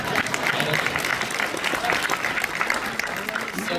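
An audience claps during a political speech in December 2024, a dense, steady burst of applause with crowd noise and faint voices mixed in.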